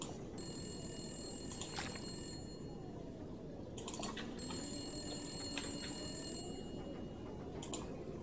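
An old telephone rings in the video game The Long Dark, Wintermute story mode, sounding in repeated bright trilling bursts of about two seconds with short gaps, fairly quiet over a low ambient hum.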